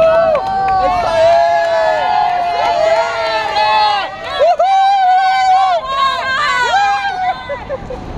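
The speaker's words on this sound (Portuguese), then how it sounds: "É torcida que vocês querem? Tá torcida aí, ó." Spectators along the route of a half marathon in Rio de Janeiro cheer runners with loud, rising whistles and shouts over a dense crowd hubbub, close and continuous.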